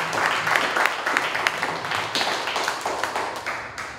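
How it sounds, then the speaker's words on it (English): Applause from a crowd at an outdoor rally in Freeport, Texas, with loud, close, irregular hand claps over a broad clapping wash lasting several seconds. "A round of applause for Micki."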